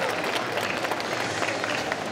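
An audience at a costume contest applauds the jury, with steady dense clapping filling the room and voices mixed in.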